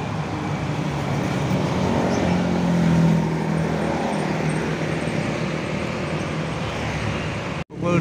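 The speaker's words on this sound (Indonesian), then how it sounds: "ini juga bus harapan jaya akap" A Harapan Jaya intercity bus rolls past amid steady street traffic, its engine rumble rising slightly mid-stretch over a continuous wash of roadway noise, ending with an abrupt cut.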